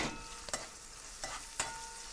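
Bouillon and spices being stirred in a pot for Haitian black rice, a soft steady sizzle with a few distinct spoon scrapes and taps, close and quiet, with no talking.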